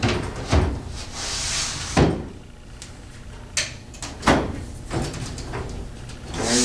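Door of an Easy Snap photo booth is pulled and handled, giving a series of several knocks, thuds and rattles spread irregularly over several seconds, close and moderately loud, with no speech.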